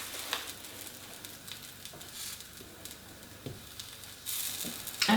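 Thai sweetcorn fritters frying in a pan, a steady close sizzle with faint pops, swelling louder near the end.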